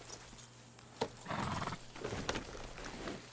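A horse in Red Dead Redemption 2 makes soft, quiet hoof and movement sounds, a few scuffing thuds clustered over a low background hum.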